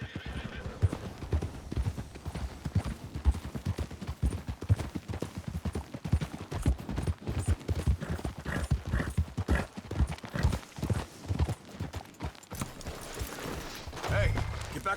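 Horse hooves clip-clop steadily through the whole stretch in Red Dead Redemption 2, a brisk rhythmic beat that is loud and near, with faint snorts and other game sounds mixed in.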